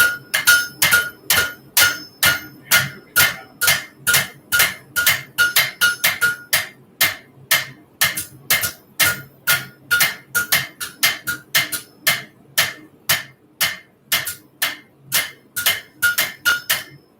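A hammer strikes a hot railroad spike on an anvil during knife forging, dozens of steady, ringing metallic blows in a brisk regular rhythm with short gaps, close and clear, with no talking.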